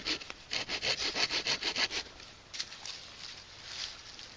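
Handsaw cutting through a wooden pot hook, about a dozen quick rhythmic back-and-forth strokes followed by a few slower, softer strokes, close and alone.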